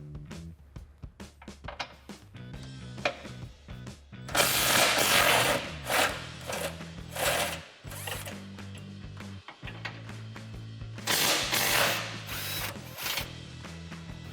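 A ratchet with an 18 mm socket loosens skid plate bolts on a Jeep Gladiator JT, giving rapid clicking pawl bursts in repeated runs, loud and close, with brief pauses between pulls.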